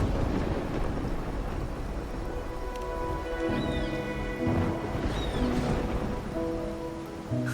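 Rain with rolling thunder in the video game Wuthering Waves: a steady hiss of falling rain and low rumbles beneath soft tonal game music, with no talking.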